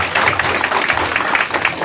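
A church congregation applauds to welcome a speaker, with dense, steady clapping from many hands throughout, loud and close.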